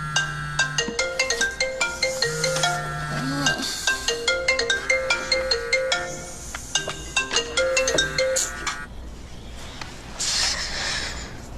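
A phone ringtone plays a bright repeating electronic melody in a home at night, steady and fairly close for about nine seconds, then stops, leaving faint hiss.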